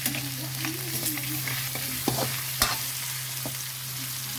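Bones and other ingredients are stir-fried in a hot pan, giving a steady sizzle with scraping stirs and a few sharp clinks of a utensil, with no talking.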